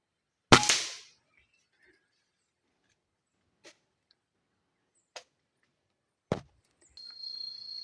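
A single sharp gunshot fired at a squirrel cracks out loudly near the start and decays quickly, followed by a few faint isolated knocks in otherwise quiet surroundings.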